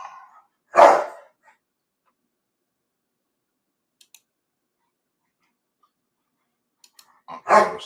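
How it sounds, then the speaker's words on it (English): A dog gives two sharp, loud barks, one near the start and one near the end, with near silence and a few faint clicks between them. "black-eyed dog is, of course, barking in the background"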